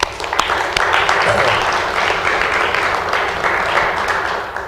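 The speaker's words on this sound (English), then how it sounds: "I just want to give a quick round of applause to the parents real quick." Parents receive a sustained round of applause from the audience at a high school community show, dense clapping that stays loud and even throughout with some murmuring mixed in.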